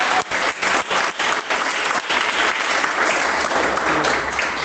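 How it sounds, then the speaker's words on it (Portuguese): A church congregation breaks into sustained, lively applause at a worship service, with dense clapping filling the space throughout and a few voices faintly audible underneath. "dar uma salva de palmas bem alegre para Jesus"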